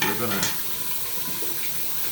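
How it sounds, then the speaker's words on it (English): Water from a tap runs into the bowl of a shaving brush during a wet shave, a steady splashing flow heard close under brief talk at the start. "put water in there, in that bowl, like that"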